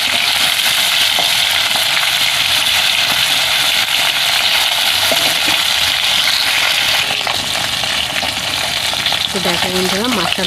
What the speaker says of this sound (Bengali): মাছটা লাল লাল করে ভাজা হয়ে গেছে